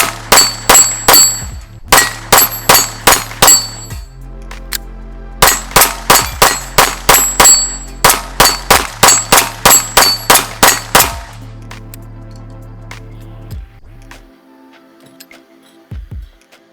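A Steyr L9A2 pistol is fired repeatedly in quick strings of sharp, loud, close shots, several bursts separated by brief pauses, with a few isolated shots near the end.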